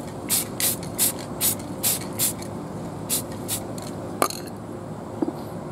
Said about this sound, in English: I'm only doing a little bit of spray.